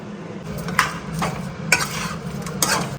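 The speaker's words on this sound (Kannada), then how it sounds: "ಸೊ ಈಗ ರುಚಿಗೆ ತಕ್ಕಷ್ಟು ಉಪ್ಪನ್ನು ಹಾಕಿಕೊಳ್ಳಿ" Salt being stirred into homemade spicy chilli chicken in a pan, with repeated scraping strokes of a spoon over a steady low sizzle, close and moderately loud.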